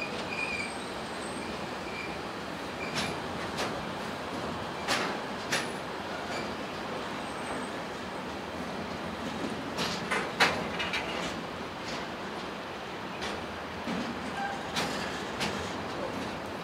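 A train pulls into Basel Badischer Bahnhof station with a continuous rolling rumble and repeated sharp wheel squeals and clanks over a long stretch. A few faint tonal station sounds drift in, with no speech.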